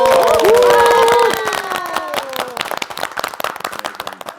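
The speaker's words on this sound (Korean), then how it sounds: "여러분 큰 박수로 환영해 주십시오" Audience applause for a zumba dance club taking the stage on a morning TV show, dense clapping under bright music with a singing voice at first, then thinning into scattered claps.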